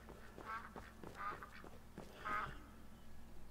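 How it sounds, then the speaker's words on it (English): A mallard duck from a Skyrim video game mod quacks three times in distinct, evenly spaced bursts, close and clear over a low steady game background hum. "It's a mallard duck."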